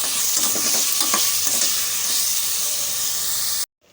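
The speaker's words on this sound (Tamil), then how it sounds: "உள்ளே சேர்த்துட்டு கலந்துப்போம் தக்காளி கொஞ்சம் வதங்கட்டும்" Tomatoes sautéing in a pan for a cabbage dish, a loud, steady hissing sizzle with a few stirring scrapes near the start, all close to the ear before an abrupt cutoff.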